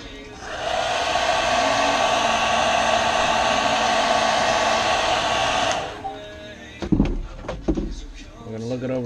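A heat gun heat-setting fresh paint on a fastback gill part blows a steady, loud hot-air roar for about five seconds, then cuts off, followed by a few clunks and handling knocks.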